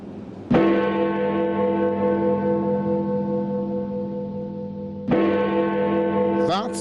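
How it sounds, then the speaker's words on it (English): Tower clock at the Ghana Post Office in Accra's Central Business District sounds two loud, ringing bell strikes, each sustaining with a long resonant decay, the second arriving about four and a half seconds after the first. "That's the unmistakable chime of the tower clock at the Ghana Post Office in the heart of the Central Business District of Accra."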